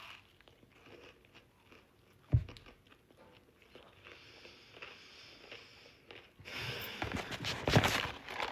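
A crunchy cookie that is crisp outside and soft inside is bitten with a sharp crack and then chewed, with a louder burst of crunching near the end. There is no talk.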